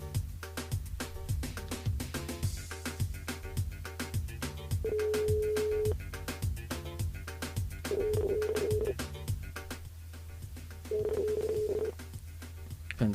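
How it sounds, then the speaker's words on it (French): A busy mix of rhythmic, bouncy music-like tones with three sustained electronic beeping tones, an odd warbling phone ring repeating at intervals during a live radio broadcast. "Enfin, drôle de sonnerie."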